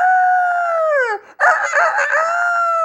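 A storyteller imitates a rooster crowing with her voice, a loud drawn-out cock-a-doodle-doo that dips, breaks briefly, then rises again in a second strained call.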